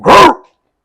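A single loud, sharp dog bark sampled in a funk record, close and clear, cut off quickly and followed by silence.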